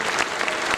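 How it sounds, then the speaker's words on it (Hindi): An audience claps loudly for the winner at a Bundeli dance festival, a dense and steady burst of many hands close by. "आपकी तालियों के साथ"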